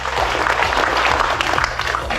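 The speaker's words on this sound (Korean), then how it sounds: "여러분 그 데이빗 오 의원님 큰 박수로 맞이해 주시죠." An audience at a Korean American leaders' conference applauds to welcome former Philadelphia councilman David Oh, loud, dense clapping from a nearby crowd, sustained throughout with a little voice murmur beneath.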